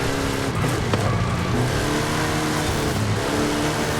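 A 1500-horsepower Dodge Charger in a racing game revs hard with a loud, continuous engine roar and shifting pitch, close and dominant throughout.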